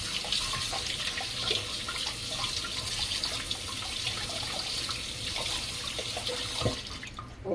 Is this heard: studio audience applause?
no